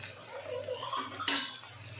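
Metal spoon scraping and clinking in a pan as garam masala and other spices are mixed into a cooking dish, with one sharper clatter near the end.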